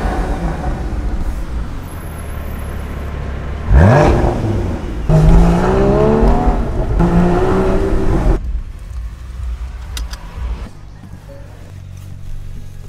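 A McLaren 570GT engine rumbles and then revs hard, rising in pitch through the gears with a loud throaty roar before settling back to a low idle.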